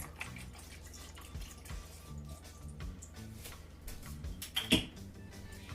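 About a cup of unsweetened almond milk is poured in as a drink is mixed, with banana among the ingredients. A faint, close trickle and dripping of liquid runs steadily, with a small clunk near the end.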